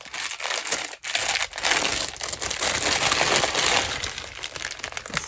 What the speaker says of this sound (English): Crinkles.